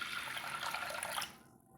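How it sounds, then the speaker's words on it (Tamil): Water pours in a steady, soft splashing stream over toor dal in a pot for boiling, then stops, leaving quiet background. "அதுக்கு தேவையான அளவுக்கு நம்ம வேக வைக்கிறதுக்கு தண்ணி சேர்த்துக்கலாங்க."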